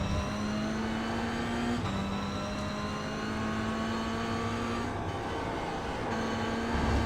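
Toyota GR86 race car in iRacing at Laguna Seca, its engine droning steadily with brief pitch drops at gear changes, a sustained near mechanical whine under no talk.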